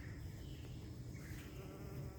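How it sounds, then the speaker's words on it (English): Bees hover among plants in an urban vegetable garden on a summer day, making a soft, continuous buzz. Faint outdoor background sound runs underneath and nobody speaks. "look at all these bees."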